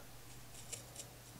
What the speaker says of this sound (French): je vais recouper ce qui dépasse, donc à quelques millimètres de ma piqûre